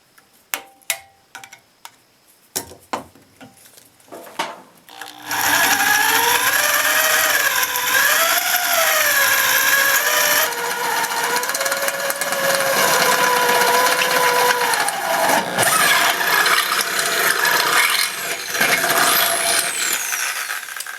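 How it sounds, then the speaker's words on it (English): A power drill with a 5/16 bit bores through layered steel on a racing mower rebuild, first a few sharp ticks and taps, then a loud sustained whine with wavering pitch that stops and restarts. "now we're going to drill with the 5/16 bit"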